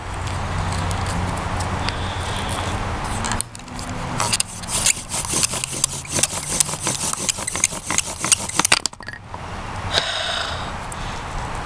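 A wooden bow drill set sawing back and forth, a gritty rhythmic rubbing of wood on wood that grows rapid and scratchy in the middle stretch, then stops abruptly, with steady background noise throughout.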